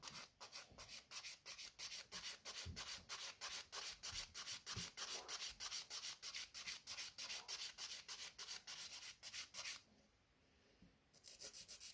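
A file smoothing the surface of a manicured fingernail in quick, even back-and-forth strokes, a close, soft rasping rhythm that stops near the end before a few last light rubs.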